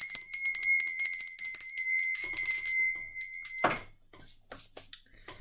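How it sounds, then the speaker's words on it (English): A ritual bell rung repeatedly to cleanse a space, bright sustained ringing tones with rapid strikes that overlap for several seconds, then fade out, leaving a few faint clicks and soft room sounds. "I will be ringing my bell also to cleanse the space."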